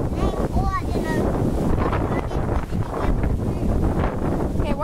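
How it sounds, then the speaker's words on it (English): Strong wind blowing outdoors, buffeting the microphone in a heavy continuous rumble, with brief high voices faintly audible through the roar. "what's going on with this wind, Kelsey? Why is it so windy"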